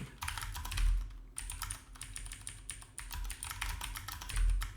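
Rapid typing on a computer keyboard, close and fairly quiet, a continuous run of light key clicks with a couple of brief pauses and heavier thumps.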